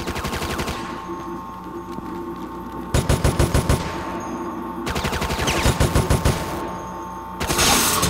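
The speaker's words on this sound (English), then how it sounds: "Concentrate weapons fire on those servers." Rapid automatic weapons fire rattles in repeated bursts during Resident Evil: Operation Raccoon City, loud staccato volleys separated by brief pauses over a constant game background hum.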